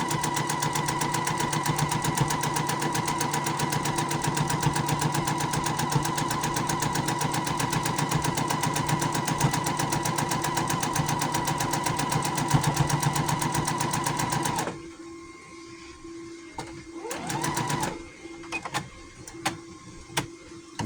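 A sewing machine runs steadily for about fifteen seconds, double stitching the sleeve of a gnome shirt, with a dense rapid needle rhythm, then stops, leaving quiet handling clicks and faint movement.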